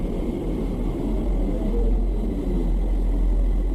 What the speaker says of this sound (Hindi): तो दोस्तों, ये है मार्स का साउंड,